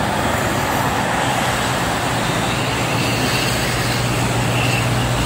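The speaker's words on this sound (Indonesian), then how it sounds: "Ini truk sama bis coy." Steady, loud roar of trucks and buses passing on the busy Jakarta-Cikampek toll road during school holiday traffic, with a constant low rumble and no pauses.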